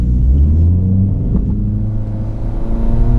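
A 2016 Honda Civic engine pulls under acceleration, a steady, loud low rumble from inside the car that climbs gently over a few seconds.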